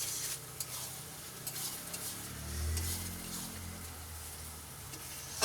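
Onions and spices frying in a pan with water just added, a soft steady sizzle broken by repeated scraping stirs of a spoon against the pan, close and with no talking.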